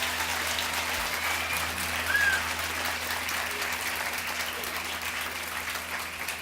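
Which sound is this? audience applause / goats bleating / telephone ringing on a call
audience applause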